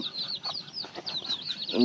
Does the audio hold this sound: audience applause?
no